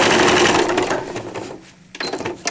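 A sewing machine stitches velcro onto a cloth diaper, a loud, close mechanical whir with rapid needle clatter that slows, pauses briefly, then starts again.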